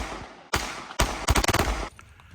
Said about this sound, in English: pop down to your local firing range and fire off a few rounds